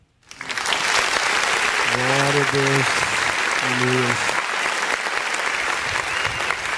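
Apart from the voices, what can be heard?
church congregation applause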